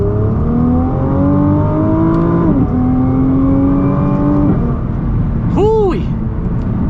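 A 2021 Nissan GT-R with its stock exhaust accelerates hard, a loud steady engine drone rising in pitch through gear changes, heard from inside the car with a brief voice near the end.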